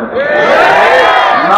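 Large crowd at an outdoor Islamic religious gathering in Bangladesh, roaring the takbir at full voice in one sustained massed shout. It is loud and close, with many voices blending into a single wall of sound.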